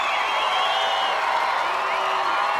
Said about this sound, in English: Jazz with a big cheering section